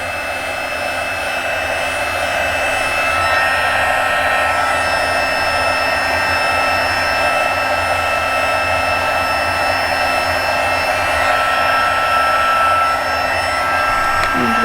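A heat tool blows a steady, loud roaring hiss throughout, melting white embossing powder on a Valentine card, with no talking over it.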